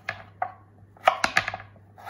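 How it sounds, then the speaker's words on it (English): A knife chops butternut squash into bite-sized chunks on a board, about eight sharp close thuds in an uneven rhythm, some in quick pairs, under a faint steady hum. "I'm going to carry on chopping the rest of this"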